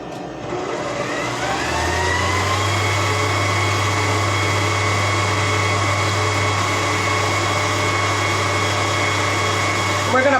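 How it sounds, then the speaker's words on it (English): An electric mixer whirs through cream cheese and eggs, starting up and settling into a loud, steady motor hum with a sustained whine, close by and continuous. "We're going to bump up that mixer onto 4"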